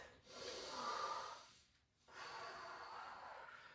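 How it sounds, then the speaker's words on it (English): A deep breath taken during a hamstring stretch in a home basketball workout: a long, faint airy inhale, a brief pause, then a steady exhale, close and quiet with no talk. "right here, I'm going to take a breath"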